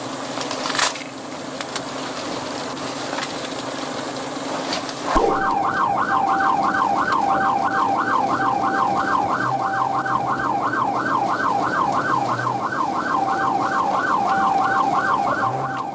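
A police car siren starts up abruptly during a high-speed chase and wails in a fast, steady yelp, loud and close, over the rumble of a moving vehicle.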